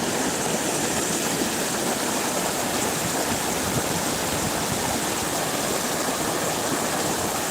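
A shallow, algae-filled river only inches deep, flowing with a steady, even rush of water close by and no other sounds.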